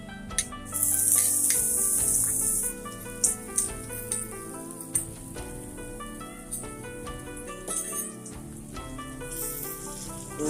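Frozen vegetables and onions sizzle loudly in a frying pan, a hissing crackle with a burst as they hit the hot oil, then continuous spitting and occasional clatters as they are stirred.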